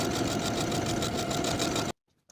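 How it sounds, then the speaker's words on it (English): A sewing machine stitches buttonholes on a Peter Pan collar dress, a fast, steady mechanical whir running close and loud, then stopping abruptly near the end. "Sew the buttonholes in place."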